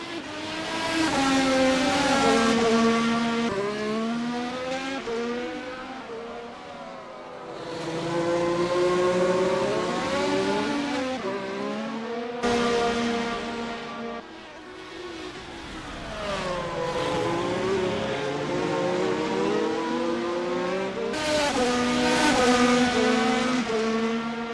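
Race cars battle wheel to wheel at the Japan GP, with drag reduction systems in play. Several engines howl continuously and loudly, their pitch climbing and dropping through repeated gear changes and overlapping passes.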